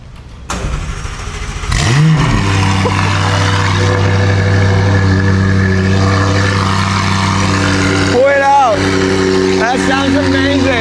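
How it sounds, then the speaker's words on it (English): A McLaren 570S with a custom X-pipe quad center-exit exhaust cranks and fires up with a sharp rev, then settles into a loud, rumbling idle, with a couple of throttle blips near the end. "A custom X-Pipe quad center exit exhaust for the 570S"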